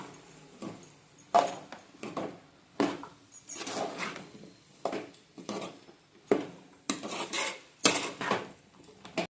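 Mutton masala is stirred in a pan, with a run of separate scraping, clattering strokes of the utensil against metal that come in bursts every second or so, close by, with quiet gaps between them.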